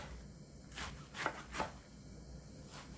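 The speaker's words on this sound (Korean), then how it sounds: "봄동은 살짝 데쳤는데 먹기 좋게 썰어주세요" Blanched spring cabbage being cut with a knife on a board, with a few soft, quiet chops in quick succession over faint background hiss.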